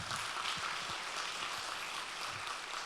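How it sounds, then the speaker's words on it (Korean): A church congregation applauds during an evangelism seminar, a steady wash of many hands clapping at moderate distance, continuous and even throughout without distinct individual claps standing out. "하나님께 영광의 박수 한번."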